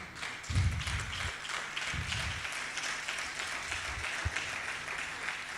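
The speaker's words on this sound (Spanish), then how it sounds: "Dale un fuerte aplauso al Señor." A church congregation applauds together in a steady, moderately loud wash of clapping that lasts throughout, with a few deeper thumps mixed in.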